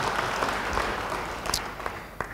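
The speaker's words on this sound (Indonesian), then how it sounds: "Yang mau beri tepuk tangan bagi dia." Church congregation applauding during a sermon, a steady wash of clapping with scattered sharper claps standing out, moderately loud and continuous throughout.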